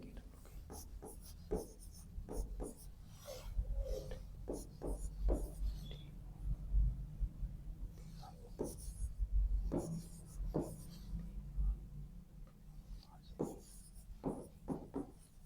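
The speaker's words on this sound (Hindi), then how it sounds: "उसके नीचे आप ऐसे लिख दीजिए, एक के नीचे एक लिख दीजिए" A pen scratching across paper in short strokes during a reasoning class on coding-decoding, the quiet scribbles running under a teacher's ongoing talk.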